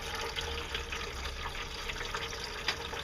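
Steady rushing water flows over a gold prospecting sluice mat, washing light blonde sand across it, a constant close splashing wash with no pauses.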